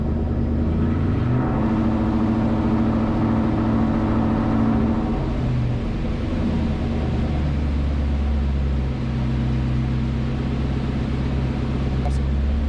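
A Holley EFI-tuned engine in a Terminator Mustang on a dyno drones steadily at close range, settling down to a lower, even idle hum partway through with no voices.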